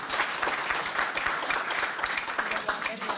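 Audience applause at an award ceremony, a dense, steady patter of many hands clapping at moderate volume for a few seconds.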